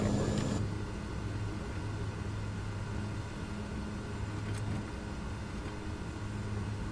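Small aircraft engine idling low while taxiing in Microsoft Flight Simulator, departing Gulfport, Mississippi; a steady low rumbling drone throughout, with a brief brighter click near the start and no talk.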